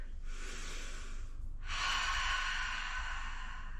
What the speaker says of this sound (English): Cleansing breath as you get to the top.